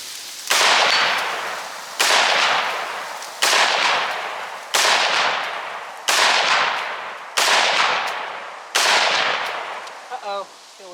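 Seven loud, evenly spaced gunshots at an outdoor shooting range, each followed by a decaying ring as rounds strike a steel target, close and clear with a brief faint voice at the end.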